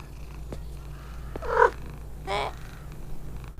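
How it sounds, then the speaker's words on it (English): A cat purrs in the horror video game Pieces of Me, in two short bursts against a low steady hum, fairly close and moderately loud with no talk. "Oh, the cat is back again."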